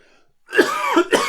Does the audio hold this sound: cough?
yes